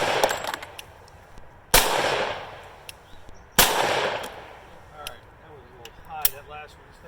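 Gunshots from an East German AK rifle firing 135 grain jacketed hollow point rounds at about 1,400 feet per second into meat: two loud, sharp cracks spaced a couple of seconds apart, each with a ringing tail, then quieter clatter.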